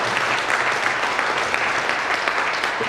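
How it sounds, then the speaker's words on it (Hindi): Loud, dense applause from a crowd at a first-anniversary celebration event, a steady unbroken wash of clapping that holds at even strength throughout with no speech over it. "जोरदार तालियां"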